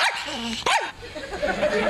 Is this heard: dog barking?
yes